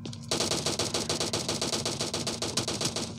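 Rapid automatic gunfire in PUBG, a steady stream of sharp close shots at an even, fast rhythm lasting a few seconds with no talk.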